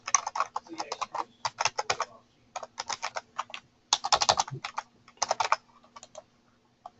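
Quick bursts of keystrokes clatter on a computer keyboard while an email address is entered, fingers tapping in short uneven runs with small pauses between, close and clear over a faint steady hum.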